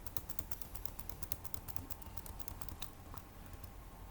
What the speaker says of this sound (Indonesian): Kita cukup menekan enter di sini